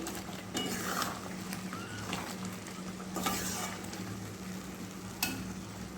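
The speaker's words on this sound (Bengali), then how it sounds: "এদিকে আমটা আমার ভালোভাবে ফুটে উঠছে" Mango pickle (aam achar) simmering in a pan with a steady low bubbling and sizzling, a few scraping stir sounds over it, with no talk.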